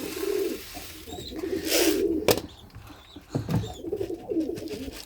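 Pigeons in a loft coo softly and repeatedly at close range, with occasional chirps and a brief flutter of wings, no voices.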